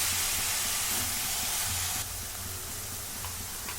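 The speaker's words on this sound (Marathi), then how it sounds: "चांगली परतून घेते" Dried fish (sukat) sautés in a hot pan, giving a steady, close hiss of sizzling that drops slightly in level partway through, with faint clinks under it and no talking.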